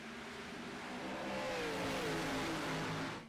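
Race cars in an iRacing NASCAR Xfinity Series race at Texas roar as they accelerate on a green-flag restart, a dense swell of engine noise rising in pitch that stays loud and steady for a few seconds.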